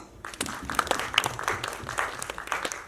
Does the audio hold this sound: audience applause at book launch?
yes